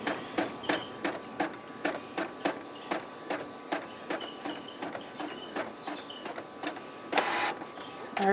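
A home printer feeding stabilizer sheets clunks along in a steady, evenly spaced rhythm of sharp mechanical knocks, close and fairly loud, ending with a brief whirring burst.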